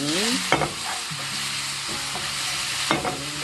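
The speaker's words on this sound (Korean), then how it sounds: "새송이가 들어가서는 그렇게 많은 시간 볶지 않으셔도 됩니다." Taro stems and king oyster mushrooms stir-fry in a hot pan, a steady sizzle running throughout with a few sharp scraping stirs of the utensil, close and alone.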